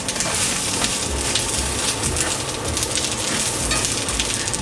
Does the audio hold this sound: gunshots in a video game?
no